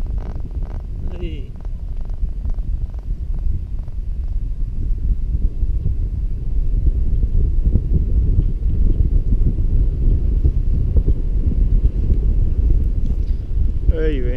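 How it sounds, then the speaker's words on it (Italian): Steady wind gusts buffet the microphone on a Leitner chairlift descending from Monte Burz to Arabba, a loud, continuous low rumble that swells in the second half, with a few faint vocal sounds near the start. "vento che viene"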